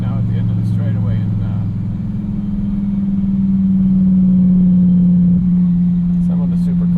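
A 2016 Dodge Viper ACR's engine drones loud and steady at speed during a hot lap at Champion Motor Speedway, a sustained low roar that swells slightly toward the end, with the driver talking over it.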